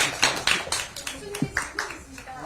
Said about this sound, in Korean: 교수님께 감사 박수 한번 드리겠습니다.